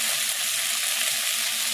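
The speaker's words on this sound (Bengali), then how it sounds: "মশলাটা একটু কষা হোক।" Spiced masala with chopped tomato frying in oil for a vegetarian banana-flower curry (mochar ghonto): a steady, close, hissing sizzle with no voices.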